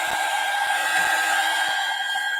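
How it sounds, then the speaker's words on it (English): A heat pen used for drying acrylic one-stroke flower painting blows steadily like a hair dryer, a loud, close, continuous whir and rushing hiss with a constant tone and no pauses. "I could even turn on the heat pen and make it run a little"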